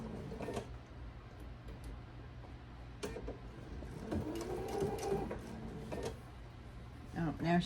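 A sewing machine stitching a quilt block whirs in rapid mechanical bursts, close and steady, with a few pauses and clicks while someone speaks quietly nearby.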